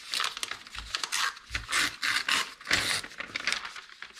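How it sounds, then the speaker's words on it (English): Scrap paper is torn in a series of short, close, crisp rips and rustles, each a brief burst of tearing with small pauses between, heard alone. "Tear some scrap paper to form a rocky edge."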